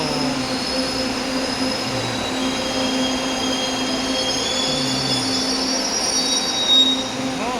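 An LRT light rail train pulls into a station in the Philippines, wheels squealing loudly and continuously over a steady rumble, with high-pitched metallic tones sustained throughout.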